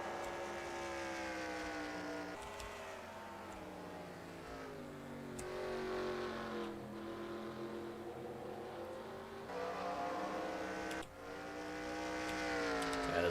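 Race cars lap a track at Memphis Motorsports Park in a racing game, engines whining as they rise and fall through the gears, with several shifts and revving passes over about thirteen seconds and no voices.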